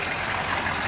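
A squarebody truck carrying a camper idles continuously with exhaust blowing into the camper, a steady, rumbling, dense unchanging drone with no voices.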